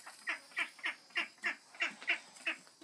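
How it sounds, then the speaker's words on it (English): A duck quacks about nine times in a quick, even rhythm, each call short and fairly close, with a quiet background and no talking. "And now, I have a new duck named Flippette as well"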